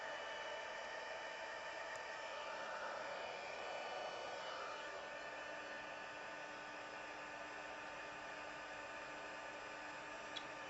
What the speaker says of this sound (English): While I'm heat embossing